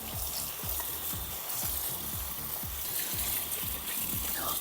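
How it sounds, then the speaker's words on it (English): Collard greens rinsed under running water in a kitchen sink, a steady close gush with a faint rhythmic patter of leaves being moved, no talking. "I'm gonna go ahead and give these another quick rinse."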